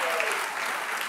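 An awards-night crowd applauds the co-host at a netball medal ceremony, a steady, even wash of clapping heard from a distance for a moment.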